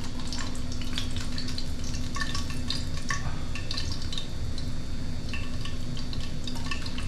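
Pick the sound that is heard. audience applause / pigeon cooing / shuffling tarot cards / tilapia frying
tilapia frying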